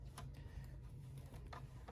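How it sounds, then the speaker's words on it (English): Sewing machine stitching the bottom of a fabric bubble basket with a quarter-inch seam, a low steady motor hum with faint regular needle ticks, soft and close. "here we are back at the sewing machine, and we are going to stitch on the bottom of our bubble basket"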